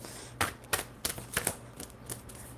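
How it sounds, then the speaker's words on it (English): A deck of tarot cards is shuffled in a series of sharp, quick riffling bursts about every third of a second, close and fairly quiet, with no talking. "One more shuffle."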